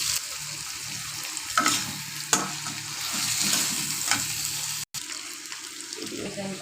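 Potatoes with turmeric and salt frying in a pan, a steady close sizzle broken by several sharp stirring scrapes, briefly cutting out before carrying on.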